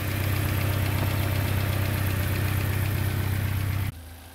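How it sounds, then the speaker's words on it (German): A petrol BMW 316i Sport Coupe engine idles with a loud, steady, even hum and a faint rhythmic ticking, running alone until it abruptly drops away near the end. "Motor läuft ganz ruhig"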